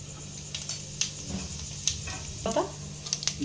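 Whole cumin seeds fry in oil as a tempering for dalia pulao, with intermittent crackling pops and light clinks over a soft hiss while people talk nearby.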